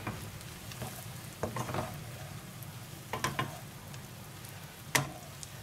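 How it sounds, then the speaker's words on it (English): Noodles for tofu pad thai sizzle steadily in a hot pan, with intermittent clacks and scrapes of stirring utensils against the pan over a constant frying hiss. "So I'm mixing the noodles in already"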